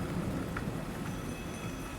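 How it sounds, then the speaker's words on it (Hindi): Rain falls with cold wind in a steady, dense hiss and patter, filling the whole short stretch evenly with no voices. "बरसात हो रही है और ठंडी हवा चल रही है"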